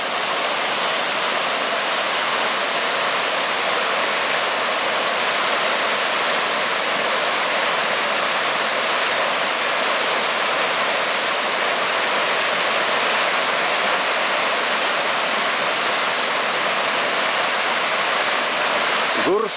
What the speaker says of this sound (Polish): Widok na rzekę po drugiej stronie mostu.